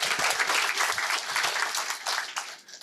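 A crowd applauds three master's students at a university three-minute thesis competition, a steady wash of many hands clapping that fades slightly near the end.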